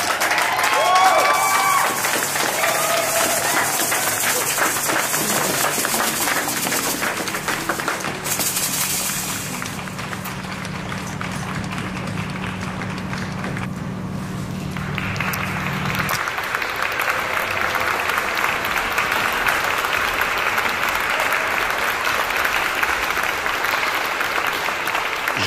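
Loud applause from a concert hall audience in Paris greets a performer's entrance, with dense sustained clapping and some crowd noise lasting throughout.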